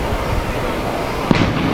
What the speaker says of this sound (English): that one seems to be a fireworks test